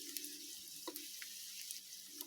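Asafoetida dropped into hot tempering oil on a low flame for an Indian dal, giving a soft, steady sizzle with faint crackles, quiet and close, with no talk.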